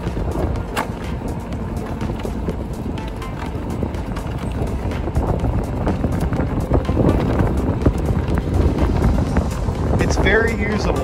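A Ninebot electric GoKart runs at full throttle along a city sidewalk, its steady motor whine and rolling rumble mixed with strong wind buffeting on the microphone, while someone talks over it.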